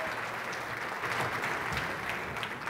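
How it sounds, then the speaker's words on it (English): Audience applause at a congressional district address in Texas, a steady, dense wash of clapping that holds at an even level from start to finish with no voices over it. "Ladies and gentlemen, a big round of applause"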